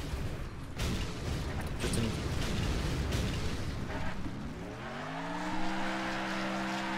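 Loud crashing and explosive rumble from a car wreck in the racing video game Next Car Game, a dense burst of impact noise that settles into a steady engine drone toward the end, with no talking.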